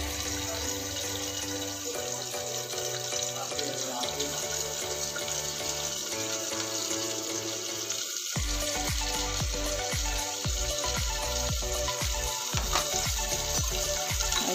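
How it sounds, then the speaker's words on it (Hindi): Chopped onion fries in a pan for brown rice fried rice, with a steady hiss and sizzle throughout, a brief pause about halfway, then renewed sizzling broken by scattered stirring clatters. "इसको गोल्डन ब्राउन होने तक हम फ्राई करते रहेंगे।"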